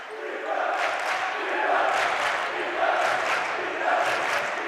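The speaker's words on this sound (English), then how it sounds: "Home students trying to cheer on this defense here in the early part." Home student section at a boys high school basketball game cheering on the defense, a sustained crowd roar of shouts and voices swelling in waves through the whole stretch.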